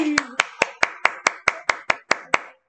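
A small child claps his hands, about ten crisp, evenly spaced claps in a steady rhythm, close and alone.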